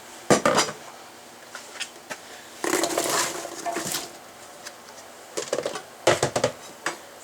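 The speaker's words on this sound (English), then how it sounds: "now that I'm up to a sort of a low boil, I'm going to add my apples carefully." Apples go into a pot at a low boil with clattering knocks of metal and utensils against the pot rim, arriving in bursts with short pauses between them and a scraping rattle in the middle.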